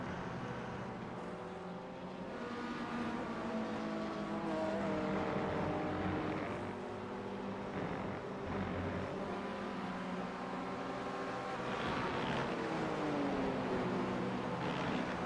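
Race car engines drone steadily in the iRacing sim racing game, with a continuous mid-loud whine rising and falling through gear changes as cars crest a hill on track, no voices.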